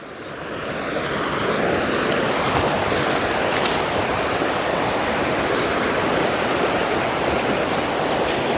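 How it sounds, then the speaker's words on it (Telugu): A flooded forest stream near the Bijapur forests rushes loudly and continuously, a dense roar of churning water that swells in over the first second and then holds steady with no voices. "ఇదంతా కూడా వాగులు నిండిపోయినటువంటి ప్రాంతం చాలా డేంజరస్ ప్రాంతం"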